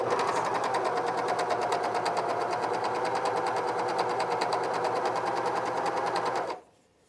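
A cover stitch machine with a binding attachment runs at a steady fast stitching rhythm, loud and close, for about six and a half seconds, then stops abruptly into near silence.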